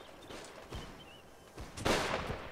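Musket volley from a two-rank line of infantry in a Revolutionary War video game, a burst of crackling gunfire rising late and loud over quieter scattered shots.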